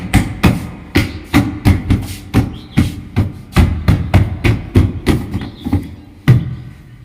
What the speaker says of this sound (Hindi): और ये लगाया, बस इसे हमें ठोक देना पड़ेगा।